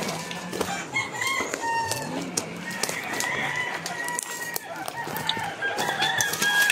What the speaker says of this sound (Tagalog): Dami nilang manok dito mga kaibigan